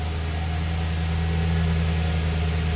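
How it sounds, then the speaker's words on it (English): A 1994 Ford F150 engine idles after a cold start, a steady low rumble with a constant mid hum, close by and unbroken throughout with no talking. "Just gonna walk around quick, let you hear that engine"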